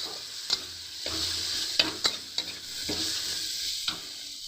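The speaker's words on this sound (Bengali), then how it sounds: "আদাটাকে কিন্তু ভালো করে একটু ভাজা ভাজা করে নেবো" Ginger frying in hot oil in a village-style kitchen, a continuous close sizzle broken by several sharp clinks and scrapes of a spatula stirring the pan.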